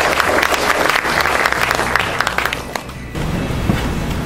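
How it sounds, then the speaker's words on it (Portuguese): Audience applause at a presentation about a school, a dense, steady wash of many hands clapping that briefly dips near the end and then resumes at full strength. "uma salva de palmas para você."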